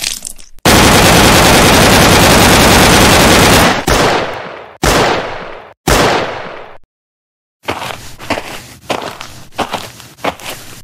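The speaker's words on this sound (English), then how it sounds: "Keep firing, boys." Loud, sustained machine-gun fire from a Vyond animated war scene, a dense continuous burst followed by several shorter bursts with abrupt cutoffs, a brief silence, then scattered crackling shots and impacts.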